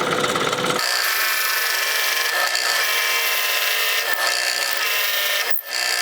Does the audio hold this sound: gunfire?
no